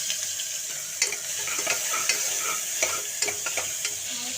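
Onions and cumin sizzling in oil in a kadai, stirred with a utensil: steady close frying hiss with scattered scraping knocks from the stirring, no talking.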